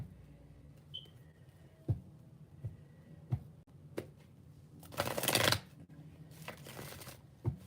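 Tarot cards shuffled in a series of sharp riffling snaps, with a longer dense burst of flicking cards near the middle, close and fairly quiet with no talking.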